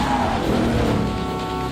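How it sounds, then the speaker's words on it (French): A grey 1967 Ford Mustang tears along in a car chase, its engine droning loud and steady with a brief tyre squeal, close and continuous with no talk over it. "on poursuit une Ford Mustang 67 grise"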